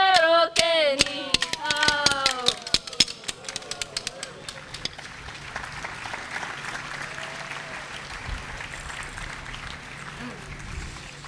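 Crowd clapping at an outdoor rally in San Jose, with dense sharp claps for the first few seconds that thin out and fade beneath chanting voices and ongoing crowd murmur.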